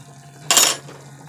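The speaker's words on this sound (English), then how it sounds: "Stir it all around." A spoon stirs garlic, parsley, thyme and other ingredients for chicken noodle soup in a metal pot. It makes one short, bright clatter of scraping and clinking against the pot, close and fairly loud, surrounded by quiet hum.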